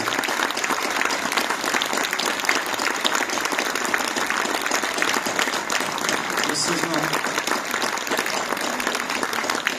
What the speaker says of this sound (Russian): Давайте их похлопаем.